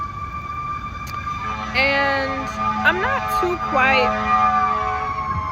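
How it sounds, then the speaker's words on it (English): Emergency vehicle sirens wail in the background, a steady tone with rising and falling sweeps, heard under a person speaking nearby. "trying to wait for the sirens to kind of pass"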